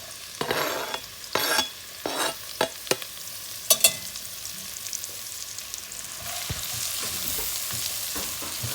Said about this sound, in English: So we're going to saute the onions and the celery at the same time.